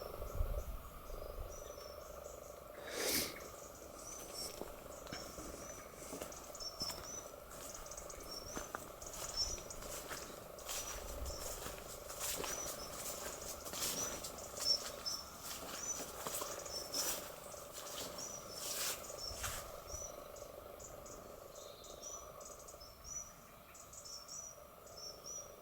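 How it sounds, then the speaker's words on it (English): Small insects chirp steadily around a pond on a calm morning, with frog-like croaks mixed in; a continuous layered chorus of high trills and pulsing calls, fairly close, with a few brief louder clicks and no talking. "Little insects down there in the pond."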